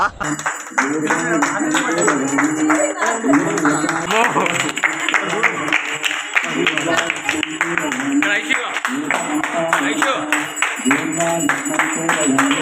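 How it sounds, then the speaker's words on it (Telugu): A crowd at a neighbourhood Ganesh festival aarti claps in a steady rhythm, close and loud, mixed with singing and chatting voices. "క్లాప్స్ బా"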